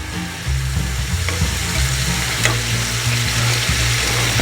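Stew meat browns in a pan with a loud, steady, close sizzle. Occasional scrapes and clatters come from stirring.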